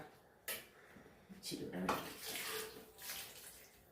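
Water splashes and pours in short bursts into a pot of bitter gourd theeyal curry, fairly soft, with faint clinks and a voice in the background.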